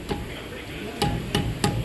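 A hammer strikes sharply four times, the blows unevenly spaced, while drum brakes are being adjusted with a preadjuster tool; low background noise fills the gaps.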